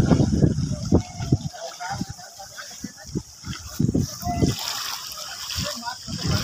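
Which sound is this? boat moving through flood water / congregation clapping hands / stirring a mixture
boat moving through flood water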